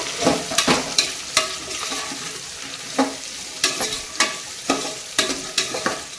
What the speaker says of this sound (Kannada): ನೋಡಿ ಈಗ ಎಲ್ಲ ಸೇರಿಸಿ ಫ್ರೈ ಮಾಡ್ಕೋಬೇಕು